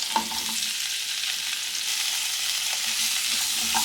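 Onion layers and medium-cut capsicum frying in oil for a capsicum curry, giving a steady, close hiss of sizzling with a few light clicks of stirring, and no voices.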